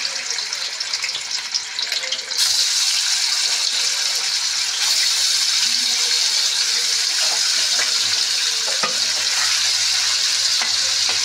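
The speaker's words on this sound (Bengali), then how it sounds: "কড়াইতে তেল গরম হয়ে গেছে বন্ধুরা, আমি পনির দিয়ে দিচ্ছি" Paneer pieces hit hot oil in a kadai and sizzle loudly, a steady bright hiss that jumps in intensity a couple of seconds in and continues without a break.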